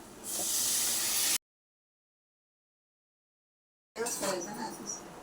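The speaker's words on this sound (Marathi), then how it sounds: "मिक्सरमध्ये मसाला वाटलेला, ते पाणी आपण आता ओतून घेऊया" Ground masala water from a mixer is poured into a pan of frying stuffed brinjal, setting off a loud, close hiss and sizzle. A gap of silence follows, then the sizzling returns more quietly with some faint talk.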